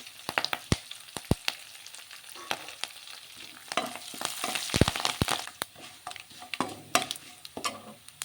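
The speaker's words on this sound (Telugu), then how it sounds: "అలాగే పోపు వేసేసుకున్నాం" Curry leaves and dried red chillies crackle and sizzle in hot oil for a tempering, a fairly quiet close frying hiss broken by sharp spoon taps and stirring clicks.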